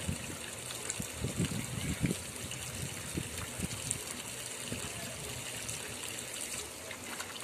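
A Bandog puppy splashes about in water, with steady sloshing and trickling, plus occasional louder splashes, close by and continuous throughout.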